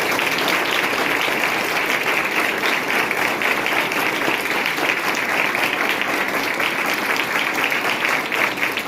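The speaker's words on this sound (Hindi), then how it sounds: "एक बार नरेश सर के लिए जोरदार ताली।" Loud, sustained applause from a crowd at a school felicitation ceremony honouring national para athletics medal winners, dense clapping that stays even and strong from start to finish with no voices over it.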